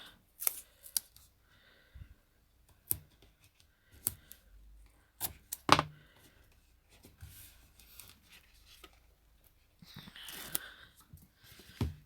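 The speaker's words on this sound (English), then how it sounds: "So what I like to do is tape straight onto the box." Tape is applied straight onto a box up close: scattered short rustles, taps and crinkles, then a longer ripping, sticky stretch near the end. Quiet gaps separate the sounds, and no one speaks.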